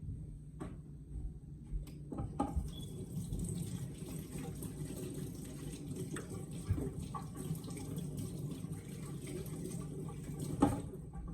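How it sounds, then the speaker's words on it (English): Hands washed under a running kitchen tap, a faint, steady stream of water with small clinks and splashes throughout, fairly distant and quiet. "I'm gonna wash my hands again"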